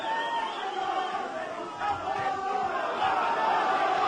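Boxing-match crowd roaring and urging on a popular Liverpool boxer, a sustained wash of cheering and shouting that swells toward the end.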